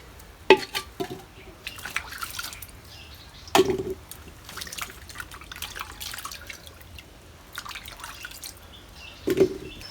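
Washed vine yam pieces dropped into a pot of water, with a few sharp splashy clacks among steady dripping and sloshing.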